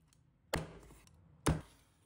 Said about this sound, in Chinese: 把鱼头和鱼骨剁成小块，